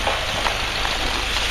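Steady tractor engine idling outdoors during winter farm chores, a continuous rumbling drone with an even, unchanging level and no voices.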